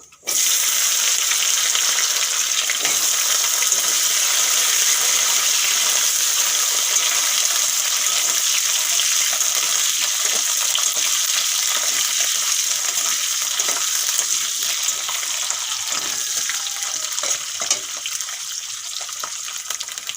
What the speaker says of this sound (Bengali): দু মিনিটের মতো সজনেগুলো ভেজে নিয়েছি